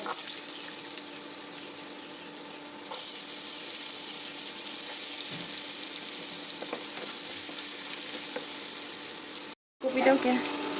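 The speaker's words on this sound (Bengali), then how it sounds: "সব সবজিগুলো প্রায় ভাজাই কমপ্লিট হয়ে গেছে" Vegetables frying in a steel pot for khichuri, a continuous sizzle and crackle with occasional stirring scrapes, a brief cut near the end followed by a louder burst.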